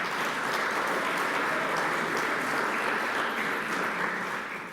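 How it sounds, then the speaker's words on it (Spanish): A church congregation applauding in praise, dense continuous clapping from many hands that stays loud throughout and fades slightly at the end. "Dele palmas de regocijo al Señor."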